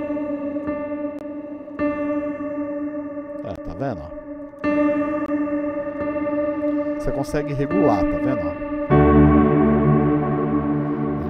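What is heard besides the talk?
keyboard worship pad with lo-fi sample rate effect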